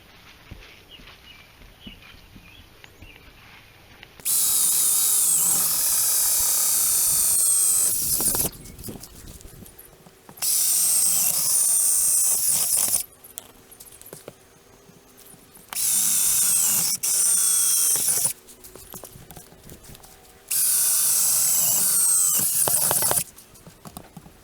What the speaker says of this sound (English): So I'm going to drill the rest of the holes out now.